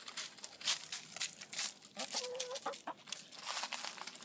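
Backyard chickens clucking and murmuring softly at close range, short irregular clucks mixed with rustling, one brief sustained call in the middle, no talking.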